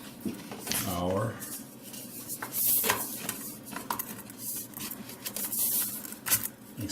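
A one-foot stove pipe extension is pushed and fitted onto a wood stove connector, giving repeated metallic scrapes, clanks and rattles of sheet-metal pipe at close range, with a short scraping sweep near the start.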